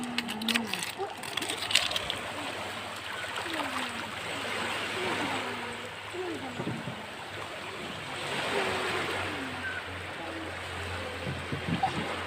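Steady wash of surf rolling onto a beach in a strong current, with swells rising and falling over several seconds, and faint voices murmuring in the background.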